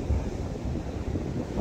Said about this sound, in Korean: 들물이 될수록 점점 갯바위 쪽으로 파도가 치네